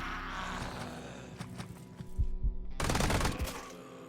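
Sustained minigun fire in the video game Quasimorph rattles in dense rapid bursts, breaking off briefly before a louder, heavier stretch of continuous shooting.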